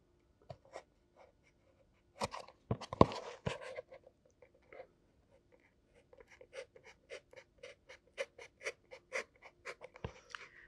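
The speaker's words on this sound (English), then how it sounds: "I'm cutting this almost in a sawing motion, but I'm doing it slowly" Faint, close scraping of a scalpel blade sawing back and forth through layered, glued paper, with irregular strokes at first, then a quicker steady run of short rasps.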